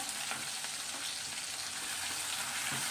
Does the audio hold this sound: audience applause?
no